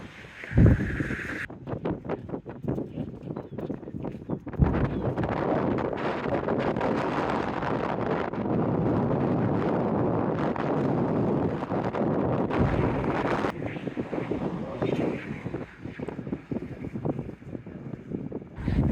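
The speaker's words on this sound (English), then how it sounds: "Windy, windy." Strong gusty wind on a bridge over an estuary buffets the microphone with loud, continuous low roaring and rumbling that swells and eases across the span, with no speech.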